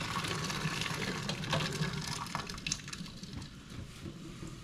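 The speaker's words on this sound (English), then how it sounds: "all you do is just grab the pot, just dump the water in" Water gushes and splashes as it is dumped out of a cooking pot, a faint, rushing flow that tapers off toward the end.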